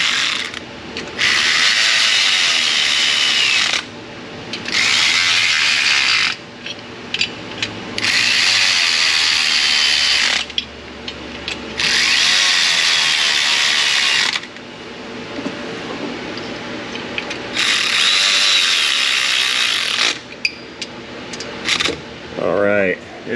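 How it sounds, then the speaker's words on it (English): A manual torque wrench tightens the bolts on a Banks differential cover for a Ford or Duramax diesel truck, giving loud ratcheting and clicking bursts in a repeated on-off rhythm, close to the mic with no talk. "coming in with a torque wrench. We're gonna use actual manual clicks."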